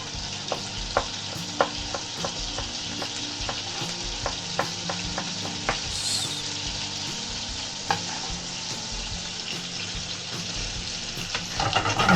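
Garlic sizzles and fries steadily in a hot pan, with a constant crackling hiss and regular sharp clicks and scrapes from stirring. No one speaks.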